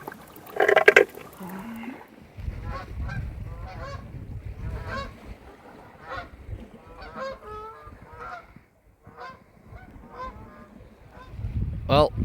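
Geese honk repeatedly on the UK coast, a loud burst of calls up close at first, then scattered honking continuing nearby with some splashing water beneath.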